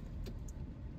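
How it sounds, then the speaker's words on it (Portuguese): A car being locked on a street gives a short electronic chirp and a clunk in quick succession, faint against a steady low hum of traffic. "Deixa eu até trancar meu carro aqui que eu tô no meio da rua"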